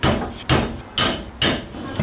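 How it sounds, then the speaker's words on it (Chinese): Garlic cloves smashed flat with the side of a cleaver on a board: four heavy, evenly spaced thuds, close and loud, nothing else heard. "大蒜准备几个，用刀撇破就可以了"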